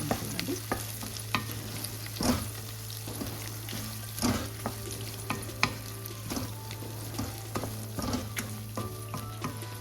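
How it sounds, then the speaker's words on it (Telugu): Raw green tomato chutney stirred in a pan as it cooks, with a steady low sizzle and repeated scraping taps of the spoon, close and alone without talk. "పచ్చడి కొద్దిగా కలిపేసుకుని కొద్దిగా ఉడికినట్టు"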